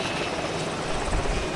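A helicopter in ArmA 2 drones with a loud, steady rotor and engine roar, close and continuous throughout the short moment.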